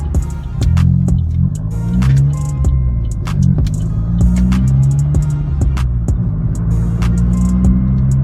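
Vauxhall VXR with a modified loud exhaust driving steadily at about 30 mph while short shifting, its deep throbbing engine drone continuous and close, with faint clicks and rattles over it.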